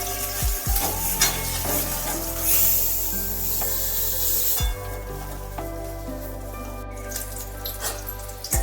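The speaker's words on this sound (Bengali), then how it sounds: "আমি কাটা বেগুনগুলো এই তেলের মধ্যে ভেজে নিচ্ছি।" Sliced eggplant fries in hot oil in a pan, giving a steady, close sizzle with occasional stirring scrapes and louder crackling bursts, and no talking.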